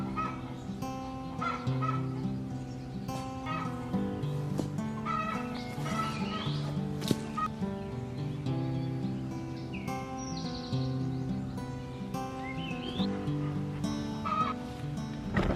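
A small flock of chickens in a chicken run clucks and murmurs continuously, with overlapping soft clucks, occasional higher calls and squawks, close and steady, with no talking.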